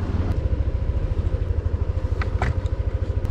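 A motorcycle engine idles close by with a steady low throb, a few light clicks and rattles over it.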